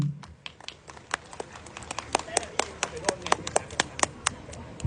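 A few guests at a party clap in sparse, sharp, uneven bursts. Individual claps stand out close by, with faint voices in the background.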